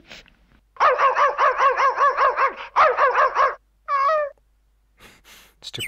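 A cartoon dog in the King's Quest 7 video game barks in a fast, steady run of loud yaps, then gives a short yip, with no voices.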